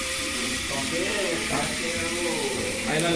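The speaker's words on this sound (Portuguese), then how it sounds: "Nós vamos fritar o bacon." Bacon frying in a pan with a drizzle of olive oil gives a steady, close, loud sizzling hiss throughout, with faint voices in the background.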